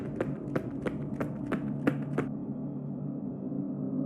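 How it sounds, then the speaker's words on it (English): Sharp clacking of critters' teeth in the SCP Descent video game, about seven quick, evenly spaced taps over a low ambient hum, then stopping and leaving only the drone. "we still hear stuff every once in a while, like the clacking of teeth"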